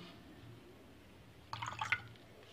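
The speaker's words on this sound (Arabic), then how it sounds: "نحط عليها شويه ميه عشان تقيله" Water trickles and splashes briefly into a small toy washing machine, a short burst of dripping and pouring after a quiet stretch.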